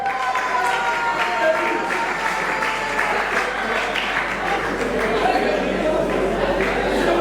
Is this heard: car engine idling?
no